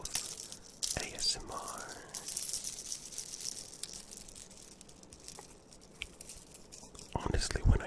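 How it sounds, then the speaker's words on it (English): A bracelet of stones handled up close for ASMR, small clicking and clinking taps of stone beads against each other, with soft whispered speech around them. "I'm gonna start with the bracelet of infinite stones"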